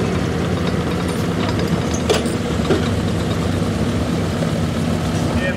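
At a truck pulling event, a gas 4x4 pickup engine roars steadily under load, rough and breaking up a little. The roar holds a constant loud drone with a crowd murmuring faintly in the background.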